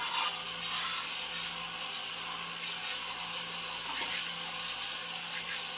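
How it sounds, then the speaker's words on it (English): An antique Dufrense and Co. chef knife is drawn across a whetstone in smooth, repeated strokes, giving a soft, whispery scraping hiss that pulses in an even rhythm, close up and quiet, with no talking. "you can hear this stone is very whispery. The knife just glides over it like it feels very smooth."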